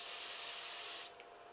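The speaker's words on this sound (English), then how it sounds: "when I lubricate with Fin Super, our Teflon spray oil" Fin Super Teflon dry lubricant spray oil released from an aerosol can in one steady, close hissing burst of about a second that cuts off abruptly, followed by near silence.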